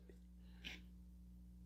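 A single short, faint sneeze partway through, over a steady low electrical hum in a quiet room.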